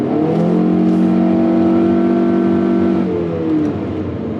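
A 2020 Mitsubishi Outlander with a 4-cylinder engine and CVT accelerating on the road, its steady engine drone rising slightly in pitch, loud and close, with no talking.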